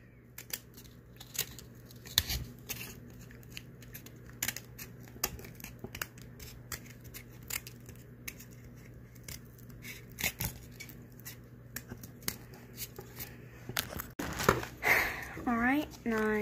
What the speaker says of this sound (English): Now, I'm just going to cut it.